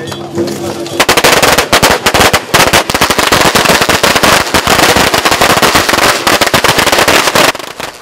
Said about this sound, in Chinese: 在炮声当中